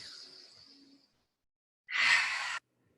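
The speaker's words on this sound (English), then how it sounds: "Breath of fire." A breath of fire yoga breathing exercise during a morning class, heard as one sharp, loud burst of forceful breath lasting under a second after a softer exhale trailing off, with near-silence between.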